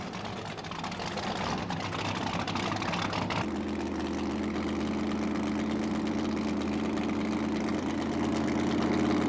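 The racing powerboat Power Play idles steadily as it heads out for a time trial, a continuous low engine rumble with constant loudness that shifts slightly in tone partway through, with no voices.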